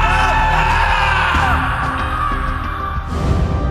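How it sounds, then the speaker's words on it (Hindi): Men yell and bellow in a loud, sustained outburst inside a mansion, a dense continuous shouting sound effect for a horror story. "मेंशन के अंदर से उन दोनों को राज और अभिषेक के चिल्लाने की आवाज सुनाई देने लगी"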